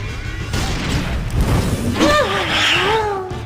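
A loud booming blast with a crashing burst in Angry Birds Epic, followed by ringing tonal game effects sweeping up and down, under a noisy background.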